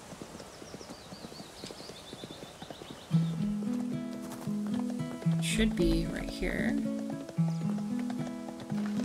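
A horse in a video game trots with rhythmic clip-clop hoofbeats over game music, while a person talks now and then.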